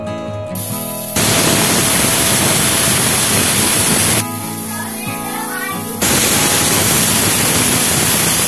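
Pressure cooker hissing loudly as it whistles while cooking potato and pea curry, a harsh continuous steam roar broken by a brief dip in the middle before surging again.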